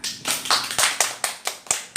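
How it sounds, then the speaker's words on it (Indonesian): Several people clap hands in a classroom exam session, a burst of about eight sharp, evenly spaced claps, close and fairly loud, with no voices over them. "Beri tepuk tangan juga."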